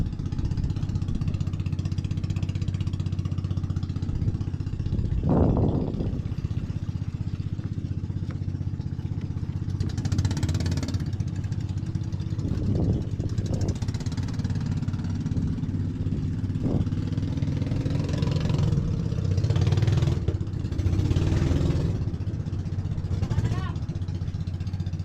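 A mother boat's engine runs steadily throughout, a continuous low drone that stays close and loud beneath intermittent clatter and people talking nearby.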